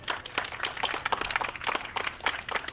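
Audience applause greets an actress introduced on stage at a live show, a short burst of scattered claps from a modest crowd, fairly quiet and steady throughout.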